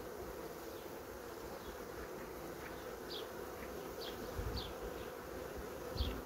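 Honeybees buzz in a dense, steady drone close by at an opened hive with capped brood, individual bees occasionally whirring past. No voices.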